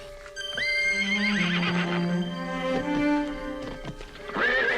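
A horse neighs loudly and close by in a long, wavering whinny lasting several seconds, followed by snorts and a second rising neigh at the end, with faint hoof clip-clop underneath.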